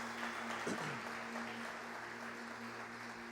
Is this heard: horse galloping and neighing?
no